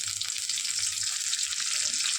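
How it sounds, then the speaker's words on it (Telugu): Onion pieces, tempering seeds, cumin and curry leaves fry in hot oil for a cucumber chutney, giving a steady, close, bright sizzle that hisses on without pause and with no talk. "నూనె వేడి అయిన తర్వాత ఉల్లిపాయ ముక్కలు, తాలింపు గింజలు, జీలకర్ర, కరివేపాకు ఇవన్నీ వేసుకోవాలి."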